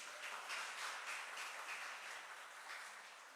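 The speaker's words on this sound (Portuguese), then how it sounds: "Vamos aplaudir o Senhor pela vida deles." Church congregation applauding during a service, a soft, distant blend of many hands clapping that swells slightly and then tapers off quietly.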